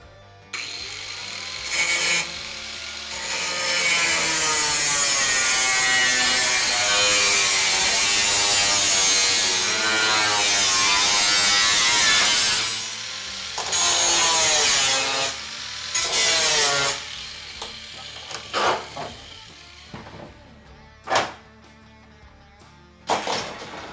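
Power cutting through a car's sheet-metal hood panel, a loud sustained grinding whine with wavering pitch for about twelve seconds, then shorter bursts and scattered metallic clanks and taps as the cutting stops and starts.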